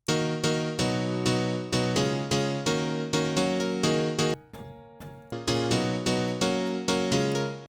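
A Korg M1 grand piano layered with a subtle piano texture layer hammers out rhythmic house chord stabs in a choppy, syncopated pattern, bright and close, with one short gap near the middle and no talk.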